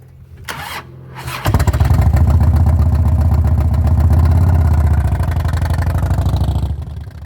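A motorcycle cranks and fires up at the start of a ride, settling into a loud, close, steady running rumble that eases slightly toward the end.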